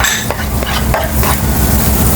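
Garlic and onions sautéing in a pan for tuna pasta, a loud steady sizzle with scraping stirs of a utensil coming in short bursts, close and without talk.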